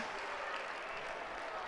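A college wrestling crowd at a Wisconsin versus Nebraska Big Ten dual erupts after a huge throw, a steady roar of cheering and applause filling the arena throughout.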